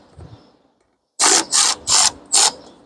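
A ratchet loosens bolts on a 2019 Mercedes-Benz GLC300 during a battery replacement, giving four loud, close, evenly spaced bursts of rapid clicking after a near-silent pause, with no talking.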